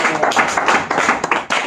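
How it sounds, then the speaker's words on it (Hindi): Loud, dense audience clapping filling a religious lecture hall during a Bhagavad Gita discourse, steady and close with slight dips in intensity across its short span. "जोरदार ताली मारो इसके लिए।"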